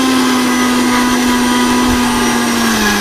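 A mixer grinder whirrs steadily at close range, grinding a mixture with curry leaves into a smooth paste. The motor whine holds loud and even, dipping slightly near the end, with no talking.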